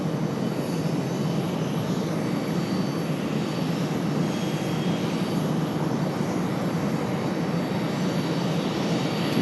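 Frontier airliner landing on runway 5 right at Raleigh-Durham International airport in humid weather, a steady loud broadband jet engine roar held throughout without talk.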